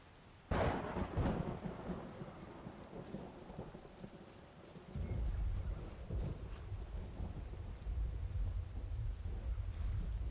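A thunderstorm with steady rain in the video game Skyrim. A loud thunder crack rolls out near the start over continuous rainfall, and a deeper rumbling downpour swells midway and persists.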